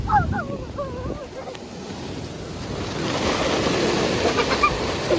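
Rough sea waves churn and roar in a stormy surge with wind buffeting the microphone; a few distant shouts or bird-like calls come early, then the surf swells louder and steadier.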